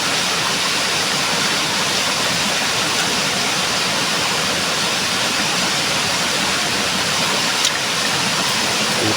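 Spring water gushing out strongly and steadily from the ground, a dense, even rushing that holds at close range throughout with no voices over it.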